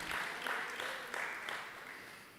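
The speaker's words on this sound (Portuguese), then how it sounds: "Se você recebe, dê um aplauso a Deus." A congregation claps during a Sunday church service, a modest, fairly quiet round of applause that carries on evenly for a couple of seconds.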